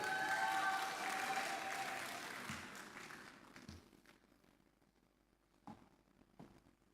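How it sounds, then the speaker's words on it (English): Audience applause at a Lagos Business School executive education graduation ceremony: dense clapping at full strength that gradually thins and fades, leaving a few scattered claps near the end. "A round of applause for everyone again."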